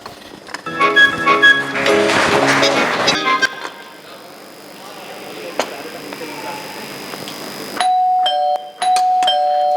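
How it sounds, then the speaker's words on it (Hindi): An electronic doorbell chimes repeatedly during an Urdu school stage play, with tones ringing after music and voices in a hall, then sounding again in short insistent bursts near the end. "अरे घंटी क्यों बार बार बज रही है?"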